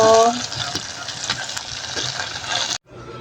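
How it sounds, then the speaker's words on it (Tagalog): Hot oil sizzles and crackles steadily as calamari fries in a pan, a loud continuous hiss that cuts off near the end. "Oh, pangalawang prito."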